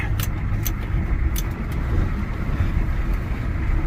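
A vehicle drives through snowy, muddy bogs with a steady low engine rumble and road noise, close and continuous, with light rattling clinks and no talking.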